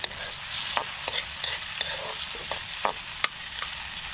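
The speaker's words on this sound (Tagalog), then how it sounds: "hintayin lang natin na kunting mag brown brown yung ating sibuyas para mabango naman siya" Onions sauté in a hot pan with a steady close sizzle, punctuated by sharp clicks and scrapes of a spatula stirring them at an uneven rhythm, and no voices.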